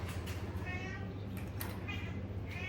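Meowing cats in a home cattery, a few short mewing calls rising over steady low background hum, fairly close and moderately loud, with faint movement between calls.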